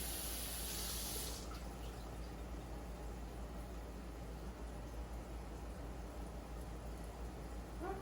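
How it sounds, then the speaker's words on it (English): Tap water running steadily into a sink while broccoli is washed under it: continuous close hiss and splash throughout, with a brief brighter spray at the start and no talk. "Now wash the broccoli."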